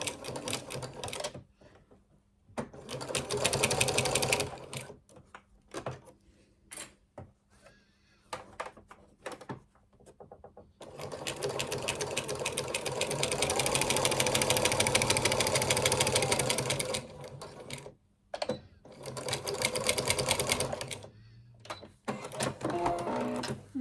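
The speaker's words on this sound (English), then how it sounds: "I'm just going to back stitch now to the end." A sewing machine back stitching the seam of a zipped fabric project bag, running in quiet bursts of rapid stitching separated by short pauses, with one long continuous run in the middle.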